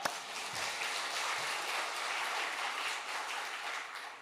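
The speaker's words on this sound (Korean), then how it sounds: "박수하겠습니다" A church congregation applauds during a Sunday service, a steady wash of clapping that holds evenly for several seconds without a break.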